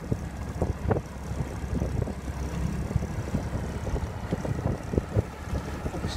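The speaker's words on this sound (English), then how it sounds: "Pull that up and then gently apply pressure and the boat will start moving forwards" Patrol boat engine under throttle as the craft moves forwards, a steady low rumble with wind buffeting the microphone and choppy water noise throughout.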